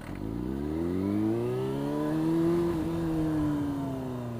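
A motorcycle pulls away in first gear as the clutch is eased out and the throttle rolled on: a close engine drone whose pitch climbs smoothly, then levels off and dips slightly.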